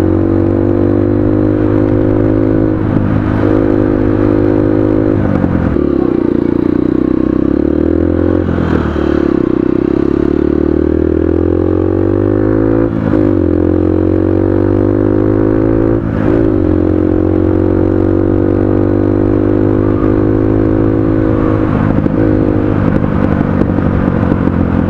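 A Honda XR150L motard motorcycle with an open pipe exhaust, riding past close and loud, its single-cylinder engine droning steadily and rising and falling in pitch as it revs and shifts.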